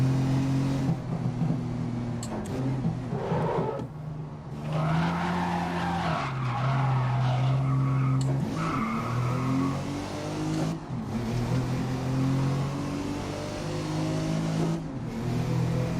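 A race car in the video game GRID (2019), its engine droning and shifting pitch through gear changes while tires skid and squeal through corners, steady and close with no voices.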